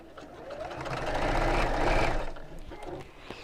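A sewing machine runs over bag handles with a steady close whir that swells louder in the middle and then tapers off, with faint clicks near the end.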